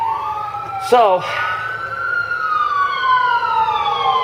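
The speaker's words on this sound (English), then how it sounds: "every time I do a video, an ambulance goes by" A siren wails past outside in the street, its long sweeping tones sliding down in pitch as it moves by, fairly close and steady, with a brief burst of a voice near the start.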